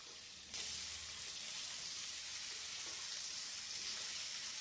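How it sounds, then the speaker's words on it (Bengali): Whole prawns fry with spices in a pan for a prawn malai curry, giving a faint, steady sizzle that holds evenly throughout, with no talking. "মশলা দিয়ে পুরো চিংড়ি মাছটা বেশিক্ষণ না একটু ভাজা ভাজা করে"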